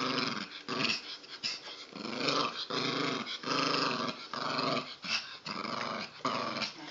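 A Maltese dog growls while tugging on a ball, in a close run of rough, rumbling growls broken by short pauses, with small snorts between bursts and no voices.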